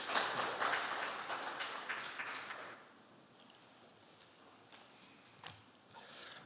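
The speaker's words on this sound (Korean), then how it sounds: "다시 한번 유희진 상무님께 큰 박수 부탁드리도록 하겠습니다." Audience applause at a business seminar, following a presentation: a dense patter of many hands clapping for a few seconds, then thinning to scattered, faint claps.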